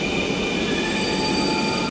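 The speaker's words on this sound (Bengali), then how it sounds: "এই দেখো ট্রেন একদম সুন্দর করে এসে এখানে থেমে যাবে" A Dhaka metro rail train pulls into a station with a dense, continuous rumble and high steady wheel squeal, loud and close, cutting off abruptly near the end with no talking.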